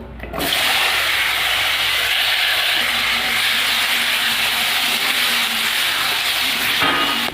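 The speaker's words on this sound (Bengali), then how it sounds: "প্রথমে আমি আলুগুলো একটু ভেজে নেব।" Steady, loud sizzling hiss of potatoes frying in hot oil, continuous and close, with no talking.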